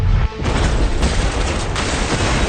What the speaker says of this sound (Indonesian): Ledakan terjadi kembali.